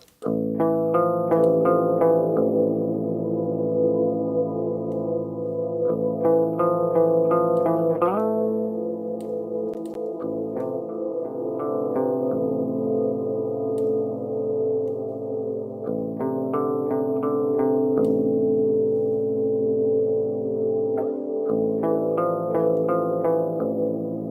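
Synthesized music washed in a spacious, resonant reverb from a space reverb plugin, with chordal phrases swelling and ringing out in long echoing tails, repeating in cycles.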